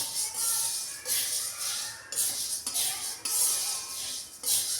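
Thalipeeth bhajani flour dry-roasts on a low flame in a heavy, thick-bottomed kadhai, stirred constantly; a spoon sweeps and scrapes the metal in rhythmic strokes about once a second, close and moderately loud, without talk.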